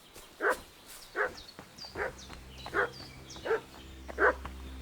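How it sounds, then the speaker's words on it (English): A dog barks in a video game set in medieval Bohemia, six evenly spaced sharp barks about every three-quarters of a second, moderately distant over a low ambient hum. "What's that dog making such a fuss about?"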